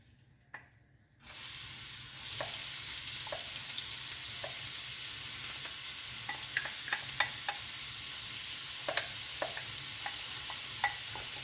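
Onions and bacon lardons fry in olive oil in a pan, a steady close sizzle that starts suddenly after a quiet moment, with sharp pops and crackles spread throughout.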